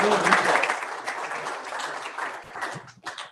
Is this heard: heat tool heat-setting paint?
no